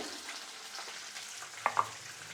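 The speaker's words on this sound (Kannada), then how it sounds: "ಹಸಿಮೆಣ್ಸಿನ್ಕಾಯಿ ಸ್ವಲ್ಪ ಮುರಿದಾಕೊತೀನಿ ಸಿಡಿಯುತ್ತೆ" Broken green chillies splutter in hot oil under a steady, fairly quiet frying hiss, with two sharp pops close together near the end. No one speaks.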